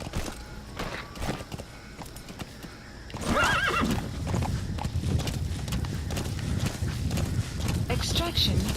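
A horse whinnies loudly in Metal Gear Solid V: The Phantom Pain, then hooves clip-clop steadily nearby over a rumbling background, with a voice speaking briefly early on.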